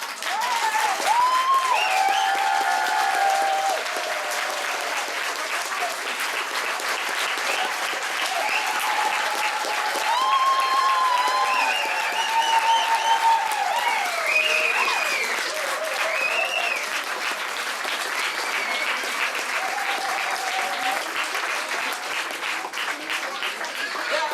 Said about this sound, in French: Ne l'applaudissez pas trop non plus, hein?